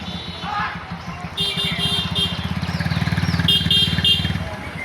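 A motorcycle engine rumbles close by on a village road in Bangladesh during Eid, its throbbing exhaust growing louder as it passes, with faint chatter in the background.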